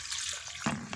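Water is poured into a blender jar while remedy ingredients are prepared, a brief, close splashing pour that swells near the end.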